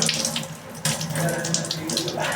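Tap water runs steadily into a sink while utensils are washed after scrubbing with Vim gel, a close, continuous splashing rush with a brief surge partway through.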